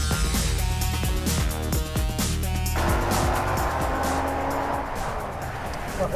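Audi R8 V10 engine loud and close with rising gear notes and quick upshifts, then a steadier broadband roar with tire noise on a race circuit, continuous throughout.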